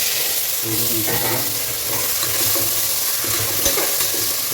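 Potatoes and onions fry in a pan for cabbage poriyal, giving a steady close sizzle with occasional stirring scrapes and clinks throughout.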